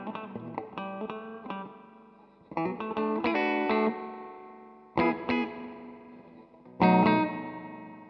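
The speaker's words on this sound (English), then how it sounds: "This one is supposed to emulate a tiled reverb chamber." An electric guitar runs through the tile setting of a Cuvave reverb pedal, which emulates a tiled reverb chamber; strummed chords and short phrases ring out with a decaying reverberant tail between separated bursts.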